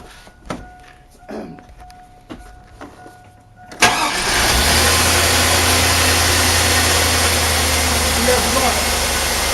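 A 2002 GMC Yukon XL engine, just refitted with a new alternator, cranks and catches after a few clanks, then settles into a steady, close, even idle.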